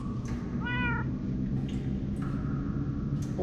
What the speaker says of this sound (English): I hear a kitty cat. Why do I hear a cat?